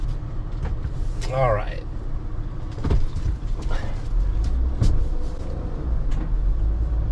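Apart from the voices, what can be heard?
Leisure Travel Van Unity 24UMB driving in parking lot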